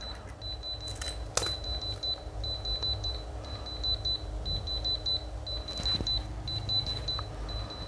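Anker Soundcore K20i semi in-ear earbuds emitting a repeating series of short, high electronic beeps in a regular pattern, faint and close, with a couple of small clicks from handling.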